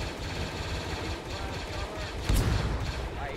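Gunfire in a Star Wars mod of the Arma 3 video game, a steady wash of rattling shots and battle noise with one louder, heavier blast near the end.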